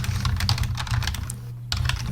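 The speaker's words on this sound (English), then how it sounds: "I'm just typing out something real quick" Quick clattering keystrokes on a computer keyboard, a rapid irregular run of close taps with a brief gap near the end, over a low hum.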